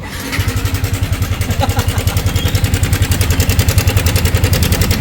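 A Yamaha Sniper 155 motorcycle engine idles close by with a faulty tensioner, a steady, rapid rattling clatter pulsing through its running, loud and without talk.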